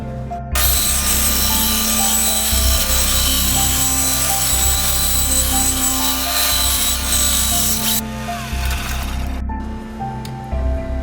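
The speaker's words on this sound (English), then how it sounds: "Now that I've cut it out on the saw" A saw cuts through a laminated PVC bow part for a homemade compound bow, giving a loud, continuous, close rasping whir that holds steady for several seconds before changing tone near the end.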